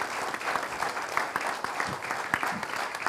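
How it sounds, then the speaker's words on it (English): An audience at a formal valedictory event gives a round of applause welcoming a speaker, steady dense clapping throughout a few seconds. "Please welcome him with a big round of applause."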